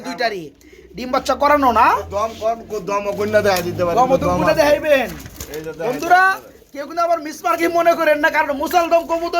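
Khaki pigeons offered for sale coo softly in the background while someone talks over them almost continuously.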